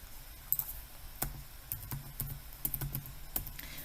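Patient details being typed on a computer keyboard, a quiet run of irregular key clicks and taps, close and alone.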